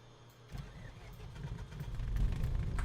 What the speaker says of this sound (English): for the engine start, we then open the window, call clear prop, and we move the Magneto switch to start.